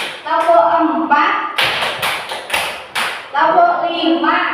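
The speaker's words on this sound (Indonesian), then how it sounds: "Tepuk 1, tepuk 2, tepuk 3, tepuk 4," Several sharp hand claps ring out in a quick counted sequence, sitting between stretches of a person speaking, each clap a crisp, loud, close smack.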